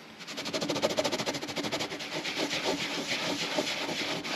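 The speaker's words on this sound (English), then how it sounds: "I'm just going to buff the top off and clean up that XS Antique." Cloth buffs an antique finish off a dyed leather project in quick back-and-forth rubbing strokes, a close, rhythmic scratchy swish repeating about every quarter second.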